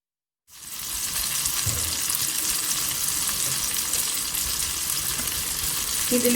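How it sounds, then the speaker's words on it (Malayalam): Paniyaram batter sizzles steadily in a hot oiled appam pan, a loud, continuous frying hiss that starts abruptly and holds without pause, with no talking. "അതിലേക്ക് നമ്മൾ ഈ മിക്സ് ചെയ്ത് വെച്ച മാവ് ഒഴിച്ചു കൊടുക്കാം."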